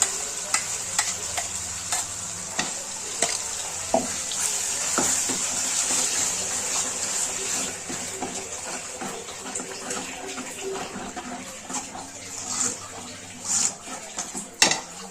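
Mutton and masala sautéing in a pot, a steady sizzle and frying hiss throughout with repeated scraping and clanking of a spoon against the metal, close up, with no talking.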